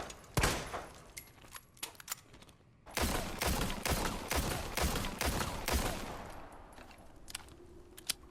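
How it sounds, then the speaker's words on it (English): Heavy firearm gunshots from the Resident Evil 4 Remake video game, a burst of rapid booming shots, a pause, then a dense sustained volley of punchy blasts with ringing tails, loud and close. "The new sound effects for the firearms, for example, are fantastic."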